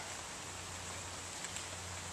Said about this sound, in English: Of course, it's starting to rain.